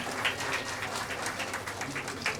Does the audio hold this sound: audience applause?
yes